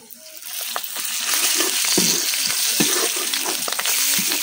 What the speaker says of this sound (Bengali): পেঁয়াজটা কিন্তু ভাজা হয়ে গেছে